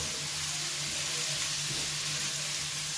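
Onion frying in oil gives a constant, even sizzle, moderately quiet and close, with no other sounds over it.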